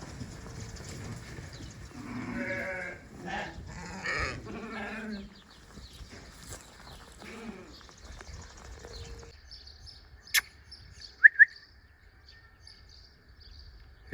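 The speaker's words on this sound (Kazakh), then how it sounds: "Ішіне қойлар кіріп алыпты." Sheep sheltering inside an unfinished village house, several loud bleats early on followed by quieter shuffling, a few short sharp knocks and distant bird-like chirps in a quiet setting.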